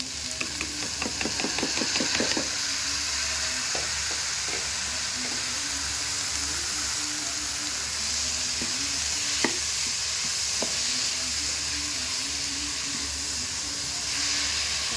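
Tomatoes fry and are stirred in a pan for spicy Punjabi okra masala, a constant loud sizzle and hiss with a rhythmic run of spoon scrapes early on and occasional clinks against the pan.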